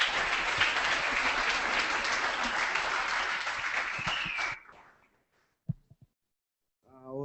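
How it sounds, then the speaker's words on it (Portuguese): An audience at a photojournalism workshop claps loudly and steadily for several seconds, then the applause cuts off abruptly into near silence broken by a couple of soft knocks before a voice begins. "vamos aplaudir esses caras aí"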